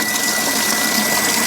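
Booster water pump running steadily with water gushing from a newly opened tap, a continuous loud broadband rush with a faint steady whine, no talk over it.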